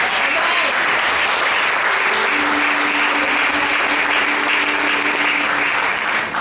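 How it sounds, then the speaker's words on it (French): Church congregation at a Sunday service applauding together, a dense, sustained wash of clapping from a large crowd, loud and steady from start to finish. "je voudrais qu'on acclame le Seigneur pour ça"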